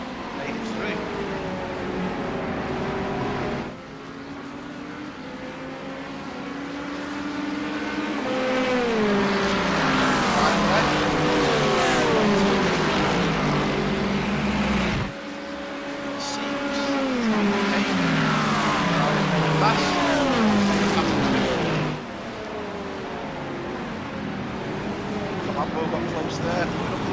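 Race cars in a video game driving on a track, with a BMW, a Ferrari and a Lamborghini among them. Loud engine whines rise and fall in pitch through repeated gear shifts, and a commentator talks over them.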